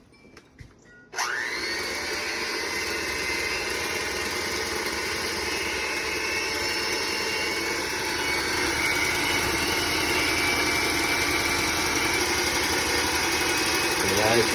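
Electric hand whisk beating egg whites with a little salt on low speed, switching on abruptly and then running as a steady, loud whirring motor hum with people talking over it.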